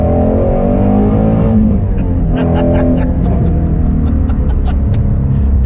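A Ford Mustang Shelby GT350R engine roars loudly and steadily up close, rising and revving with a deep rumble, then sharp pops and crackles midway.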